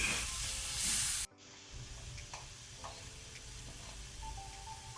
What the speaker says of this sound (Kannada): ಈಗ ನಾನು ಟೊಮೆಟೊ ಹಾಕ್ಕೊಳ್ತೇನೆ. ಟೊಮೆಟೊನ ಸ್ವಲ್ಪ ಫ್ರೈ ಮಾಡುವ